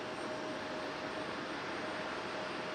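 A Lufthansa airliner departing Raleigh-Durham airport: a steady, broad jet roar heard from a distance, loud and unchanging for the whole short stretch with a faint thin whine on top.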